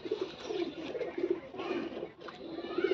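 A Pakistani teddy pigeon coos in low, soft, repeated phrases, moderately close and fairly quiet, with a brief pause partway through.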